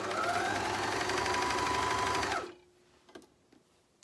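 A JUKI MCS-1500N coverstitch machine runs steadily while hemming fabric with a hemming attachment, a loud, even mechanical whir for about two and a half seconds, then it stops and only a few faint clicks and handling taps follow.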